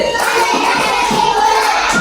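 A classroom group claps together in a quick, steady rhythm for a concentration-clapping game, with a bright, close sound and a faint murmur of children behind.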